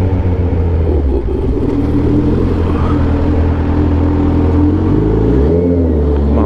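A 2021 Kawasaki ZH2 motorcycle engine revving up close, loud and continuous, with a deep rumble that rises and swells near the end, heard alone without talk.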